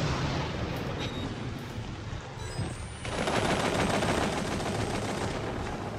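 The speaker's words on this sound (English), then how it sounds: "Boy got a machine gun now." Sustained automatic gunfire from a machine gun in the dark horror game Outlast, a dense continuous rattle of rapid shots that grows louder and fuller partway through and keeps pounding to the end.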